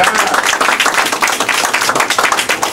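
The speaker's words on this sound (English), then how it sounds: "Give him a round of applause." Steady applause from a crowd, dense clapping at an even level throughout with no voices standing out.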